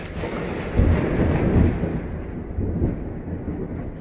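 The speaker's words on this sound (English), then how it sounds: "there's a thunderstorm outside" Deep rumbling thunder rolls in waves, swelling and fading, heavy and fairly loud, with no voices present.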